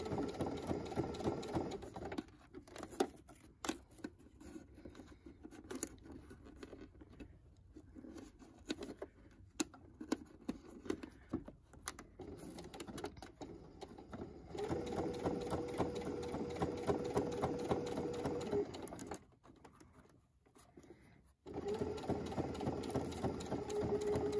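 A sewing machine stitches a fabric mask in bursts of rapid needle chatter, stopping and starting as seams are sewn and backstitched, with quiet pauses between runs and no talk.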